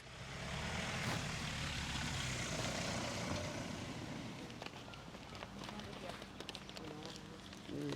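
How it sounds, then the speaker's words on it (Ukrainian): Helicopters flying overhead near the Polish border, a broad rotor and engine roar that stays loud and steady, then fades slightly, with people speaking over it. "Я чую, що вертольоти літають."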